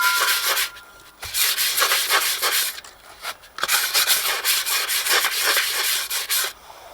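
A rusty high spot near the brake drum of a Jeep Cherokee XJ being scraped or sanded off, loud close rasping strokes in fast repeated bursts with a couple of short pauses.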